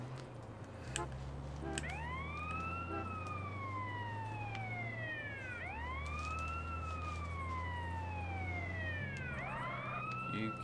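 An ambulance siren wails in repeated rising-and-falling sweeps in Grand Theft Auto: San Andreas, loud and continuous over an engine hum, with a louder burst of noise near the end.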